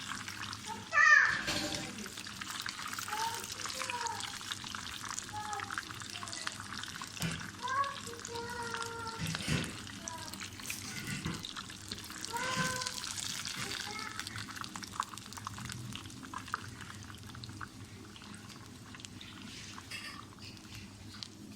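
Fish with homemade masala frying in a pan: a steady, quiet sizzle with occasional stirring and scraping, continuing under a person speaking.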